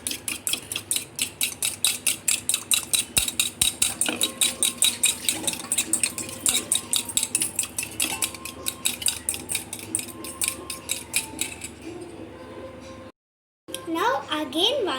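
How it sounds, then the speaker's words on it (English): Eggs stirred in a bowl for an omelette, a fork or spoon clinking rhythmically against the bowl in fast, regular strokes, with speech mixed in; the clinking stops near the end. "Now in this one, keep the egg and stir it again."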